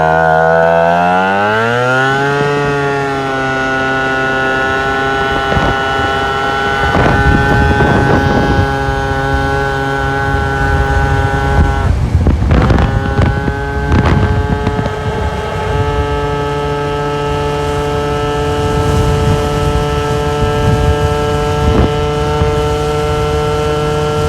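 A Vento Triton R4 motorcycle with fresh clutch springs and its old exhaust pipe refitted pulls away from a dead stop, its engine note climbing steeply from idle to a loud, sustained high drone with gear changes midway.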